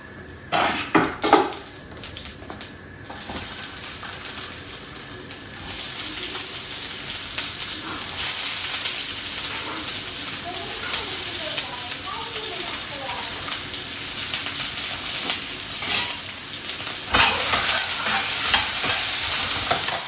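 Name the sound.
roasting whole spices, cinnamon and cardamom, in a pan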